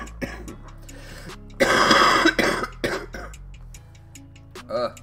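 A man with bronchitis coughs in a short, harsh burst, then clears his throat with a few smaller coughs, close to the microphone in a quiet room.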